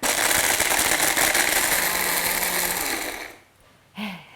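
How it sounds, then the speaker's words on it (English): A coffee grinder grinding dried shrimp makes loud, continuous mechanical whirring for about three seconds, then cuts off; a brief voice follows. "You can use a coffee grinder, anything you'd use for dry stuff."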